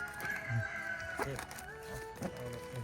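A rooster crows and chickens cluck near at hand on a rural Thai homestead, with low background noise and faint voices in the distance.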